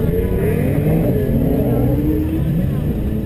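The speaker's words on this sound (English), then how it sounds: "And now we've got DSP cars ready to take the course." Autocross race cars in a DSP class run the course, engines revving and shifting up in pitch, somewhat distant, beneath an announcer's voice.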